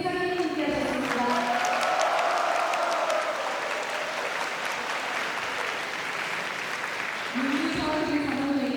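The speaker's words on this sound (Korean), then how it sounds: "여러분 큰 박수 환영해 주시면 고맙겠습니다." Sustained audience applause welcoming a guest at a Korean forum on German reunification, a steady dense clapping that fills the room, with a voice speaking briefly at the start and again near the end.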